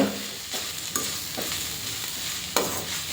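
Beetroot halwa being stirred in a pan, a soft continuous sizzle broken by a few scraping strokes of the spoon, close and moderately loud, with no talking.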